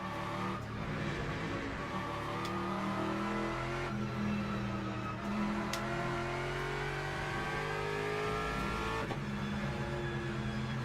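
Race car engine in Le Mans Ultimate at Spa, held loud and steady throughout with shifting revs as the throttle rises and eases, brief gear-change dips and faint tyre scrub, no voices over it.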